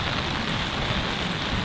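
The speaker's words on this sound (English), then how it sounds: "It's raining quite heavily now." Heavy rain pours steadily over a golf course, a dense, even hiss that fills the short stretch with no voices.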